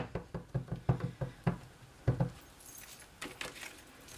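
Rubber stamp inked with Memento ink pressed onto grid paper on a table: a quick series of soft, close thumps and taps in uneven clusters, followed by a few fainter rustles.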